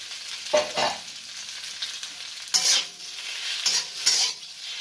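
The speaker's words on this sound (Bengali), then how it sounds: "আবারও একটু দিয়ে আমি পাস্তাটাকে একটু নাড়াচাড়া করে নেব।" Macaroni pasta frying in a pan, stirred with a utensil: several distinct scraping strokes spaced unevenly over a steady low sizzle, close and fairly loud, with no talking.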